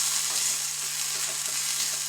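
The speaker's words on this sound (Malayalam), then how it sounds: "ഞാനിതിലേക്ക് അല്പം വെള്ളം ഒഴിച്ചു കൊടുക്കുകയാണ് ഇപ്പോൾ" Water poured into a hot pan of cornflour sizzling steadily and loudly, a dense, even hiss that does not let up, with no voices over it.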